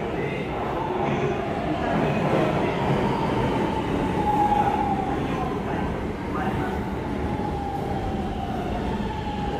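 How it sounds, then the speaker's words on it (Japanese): An express train for Misaki pulling in at platform one of a Japanese station: a loud, steady rumble of rolling wheels with a thin squeal of brakes or wheels running through it. "一番線に特急三崎行き電車が参ります。"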